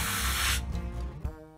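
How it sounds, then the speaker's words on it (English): Airbrush or spray can misting paint onto a Mosquito FB Mk. VI scale model: a steady close hiss for over half a second, then cutting off to quieter low noises and a faint tick. "it's good to spray some areas"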